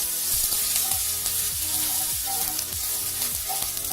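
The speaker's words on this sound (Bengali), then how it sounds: "আমি তাতে 1 চা চামচ আদা বাটা দিচ্ছি এবং এটা আমি কষে নিচ্ছি খুব ভালো করে" Ginger paste is sautéed in hot oil for methi malai paneer, sizzling steadily up close while a spatula scrapes and stirs the pan in a repeating rhythm.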